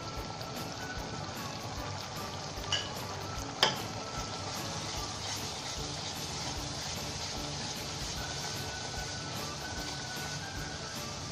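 Spices frying with chicken keema in a pan over medium flame, a dense, even sizzle that crackles steadily throughout, with a couple of brief clinks near the start.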